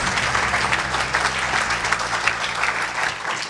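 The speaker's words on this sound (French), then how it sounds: "On les applaudit tous les 4 chaleureusement." An audience at the Pierres d'Or 2021 award ceremony applauds warmly, a continuous, dense clatter of many hands clapping at steady volume throughout.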